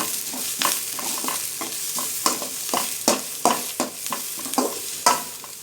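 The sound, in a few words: stirring onions frying with curry leaves in a pan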